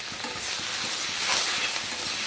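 Fried pieces cooking in a pan on a home stove, a steady, close broadband sizzle and hiss that holds evenly throughout with no talk.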